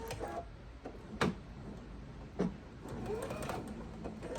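A sewing machine stitches a quarter-inch seam to close the opening of a fabric oven mitt, giving a brief, close mechanical whir with a few sharp clicks.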